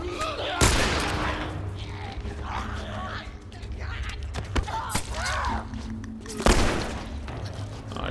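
Gunfire in The Last of Us at the Lakeside Resort: two sharp, loud shots about six seconds apart over tense game ambience and scattered clatter, with someone talking throughout.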